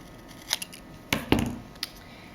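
Scissors trimming paper for a handmade card: a few crisp, close snips, with one light cut followed by a pair of louder cuts and a final faint snip, in an otherwise quiet room.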